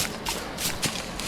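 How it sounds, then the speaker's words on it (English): Soft, clear footsteps in a video game shuffle across the ground in a quick uneven rhythm, close by and fairly quiet, with no voices. "The footsteps are nice and clear"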